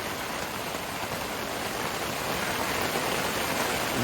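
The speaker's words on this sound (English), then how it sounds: "now we got where it's raining pretty good" Heavy, torrential rain pounds steadily on a three-person Ozark dome tent at night in high winds, a dense, unbroken hiss that swells slightly toward the end.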